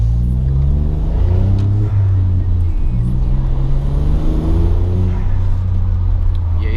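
A Volkswagen Up TSI driving on a street gives a steady low engine hum and road rumble, holding close and even throughout with only slight shifts in engine pitch.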